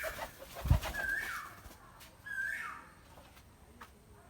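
Pigeons in a pigeon house give soft, low coos, quiet and close by, with a faint thump and light rustling around them.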